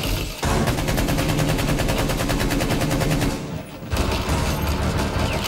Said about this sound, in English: They're shooting out the A.